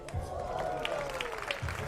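Crowd at the JBL Jump Fest athletics meet in Košice letting out a rising ooh and scattered applause after an opening-round long jump, fairly distant and moderately loud.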